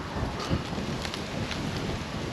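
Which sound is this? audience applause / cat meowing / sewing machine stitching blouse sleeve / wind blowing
wind blowing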